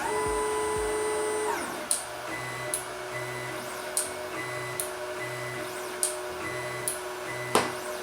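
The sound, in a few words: Wanhao D9 3D printer running automatic bed leveling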